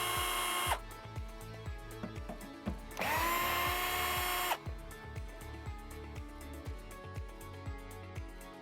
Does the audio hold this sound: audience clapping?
no